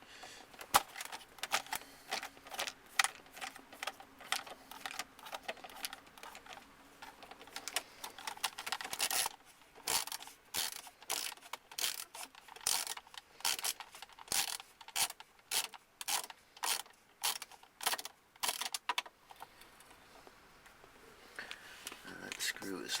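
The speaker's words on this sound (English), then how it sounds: "we have to remove a third mounting screw way up here in the back" A 10mm mounting screw being worked loose from behind a Toyota Camry car stereo, with rapid metallic clicking and rattling bursts running throughout, close to the mic, over faint background noise.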